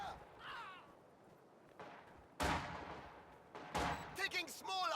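Small arms gunfire in a real-time strategy video game, heard as a few sharp distant shots and short bursts amid faint game ambience.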